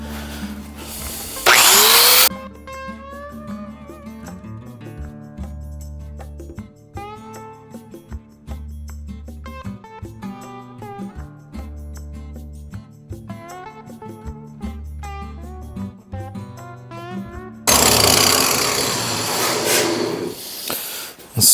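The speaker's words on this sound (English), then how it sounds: "And now I'm gonna grind them a little bit." Welded steel trivets are ground in two loud, harsh bursts, a short one near the start and a longer one at the end, with musical tones filling the stretch in between.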